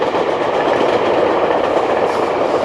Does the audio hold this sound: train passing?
yes